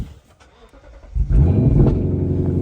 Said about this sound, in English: That Army-Trix exhaust sounding beautiful.